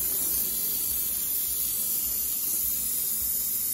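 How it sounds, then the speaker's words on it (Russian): Superheated dry steam at 500 degrees hisses from a jet in a loud, continuous, broadband rush that holds steady and close throughout, with no voices over it. "Сухой пар идет."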